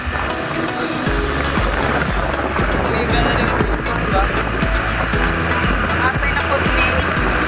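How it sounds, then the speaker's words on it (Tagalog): Riding on a motorcycle on the way to the city, with a loud continuous engine and road rumble plus wind noise throughout, and a person talking over it. "nakasakay na ako sa motor namin."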